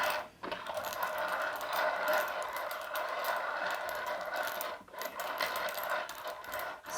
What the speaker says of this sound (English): let's start shuffling the coins